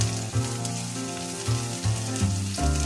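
Tomato and onion frying in a pan with salt for a multigrain dosa, a steady close sizzle with soft stirring bumps, no talk.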